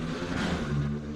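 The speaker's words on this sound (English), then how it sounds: "so maybe you heard that motorcycle out there." An engine drones past outside a ground-floor apartment, a muffled motorcycle rising and falling briefly under steady background noise.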